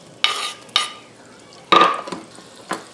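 Chopped onion goes into a hot frying pan for eggs with chiles and tomatoes, giving a few short bursts of scraping and sizzling, separated by quieter gaps, close and fairly loud with no talking.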